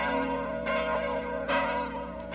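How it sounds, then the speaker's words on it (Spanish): Church bells peal in a colonial Mexican cathedral town, a sustained ringing with overlapping strikes and rich resonant tones that swell at intervals, loud and continuous with no voices. "el repique de campanas"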